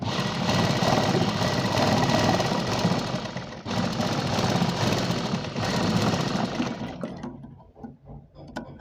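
Sewing machine stitching a plain blouse, running in long continuous bursts with a rapid mechanical chatter, pausing briefly once, then stopping near the end with a few soft handling clicks.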